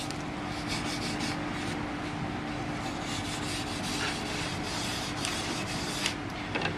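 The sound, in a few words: burnishing gilded bole surface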